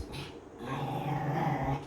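A small female dog growls and whimpers close by in a room, a continuous low grumbling with short yips lasting a couple of seconds.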